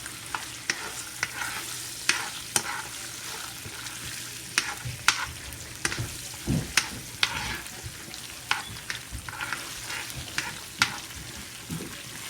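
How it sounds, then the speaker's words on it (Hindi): Cumin seeds and ginger garlic paste sizzle in hot oil for a tempering, under a steady crackle with frequent close, sharp spoon scrapes and taps as the mixture is stirred. "तो हमने ज़ीरे और जिंजर गार्लिक पेस्ट का बघार लगाया"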